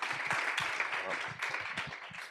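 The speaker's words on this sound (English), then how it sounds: "let's give Nicholas and James a round of applause" An audience at a growth policy summit applauding a pair of speakers, a brief burst of dense, steady clapping from a crowd that carries on evenly throughout.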